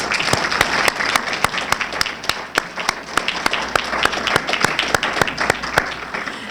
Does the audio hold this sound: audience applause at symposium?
yes